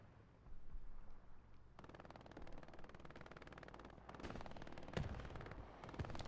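MG42 machine gun fire in the World War II shooter Hell Let Loose on Omaha, heard as a steady, rapid stream of automatic shots with a few sharper, louder cracks mixed in.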